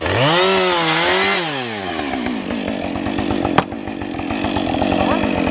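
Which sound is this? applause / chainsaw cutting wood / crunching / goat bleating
chainsaw cutting wood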